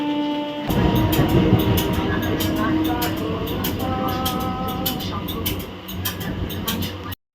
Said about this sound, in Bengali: গৈচিগ্রাম স্টেশনে এখন ট্রেন ঢুকছে